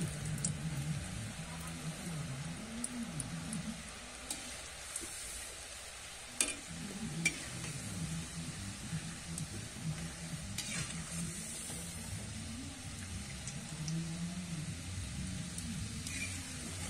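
Small drops of boondi batter frying in hot oil, a steady low bubbling sizzle with occasional faint clinks, continuous and fairly quiet throughout.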